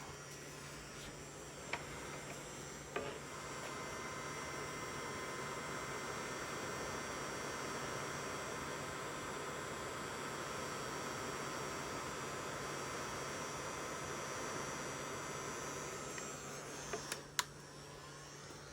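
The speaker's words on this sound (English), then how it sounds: "Keep my heat gun out." A heat gun blows on heat shrink tubing over a repaired broken wire in a mini truck wiring harness, producing a steady, even airy roar with a low hum that runs nearly unchanged, marked by a few faint clicks.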